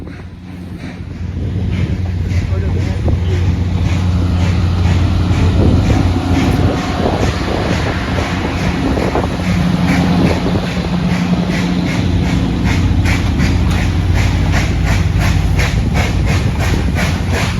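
Steam locomotive 765 racing past on an excursion run, a loud sustained roar of exhaust chuffs, rolling wheels and hissing steam that swells near and stays heavy, with a long low whistle-like tone early on.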